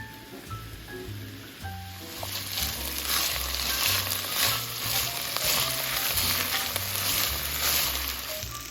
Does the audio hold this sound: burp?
no